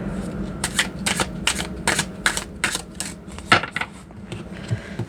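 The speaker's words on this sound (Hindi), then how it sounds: "इनको भी थोड़ा सा शफल कर लेते हैं।" Tarot cards are shuffled by hand in a quick series of crisp, papery flicks and riffles, about a dozen close snaps in an uneven rhythm over a quiet room.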